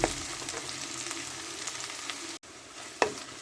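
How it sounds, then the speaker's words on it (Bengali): Crushed onion with ginger and garlic fries in a pan for a Bogura-style potato curry: a steady, bright sizzle that drops out for a moment, then a brief scrape of stirring. "এক মিনিটের মতো করে ভেজে নেব"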